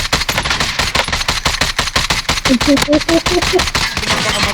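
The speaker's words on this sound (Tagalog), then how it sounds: "May bumabaril din sa atin." Rapid automatic gunfire in an online shooter match, loud and close, with dense continuous bursts rattling throughout.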